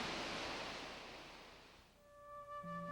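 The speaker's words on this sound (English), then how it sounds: "At the nearby exquisite Gibbon Falls, water slides over the smooth rocks like a lacy garland." Water slides over smooth rocks at Gibbon Falls in Yellowstone, a faint, steady rushing hiss that softens midway, then a thin sustained tone enters.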